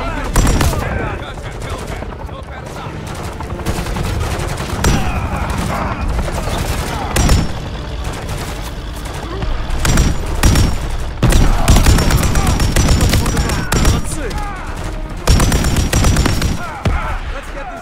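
Dense, continuous gunfire and explosions from the Call of Duty Modern Warfare 3 game on Xbox, with bursts of automatic fire and booms throughout, loud and close, with occasional in-game voices talking over the battle.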